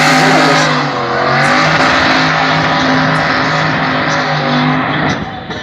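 A BMW turbo-powered drift car revs hard and continuously at close range, its engine note holding loud and strained throughout with slight dips, at a drift event during burnouts and a drivers' parade.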